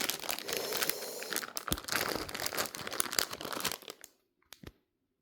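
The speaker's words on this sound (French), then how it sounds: "Donc nous allons déballer ensemble ce kit." Packaging of a cross-stitch embroidery kit being unwrapped, with steady crinkling and crunching of plastic and paper for about four seconds, then near silence with a couple of brief rustles.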